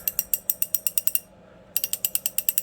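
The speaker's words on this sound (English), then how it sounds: "And this ratcheting action, absolutely excellent." A New Britain Mustang 1/2-inch compact head ratchet clicks in two quick, crisp runs of evenly spaced pawl clicks, close and loud, with a short pause between them.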